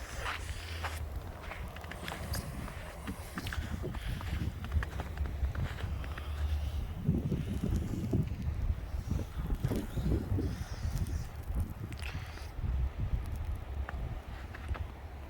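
Strong wind howls through a snowstorm in Edmonton, Alberta, Canada, in January: a continuous rough roar with gusty low buffeting that swells toward the middle, and no one speaking.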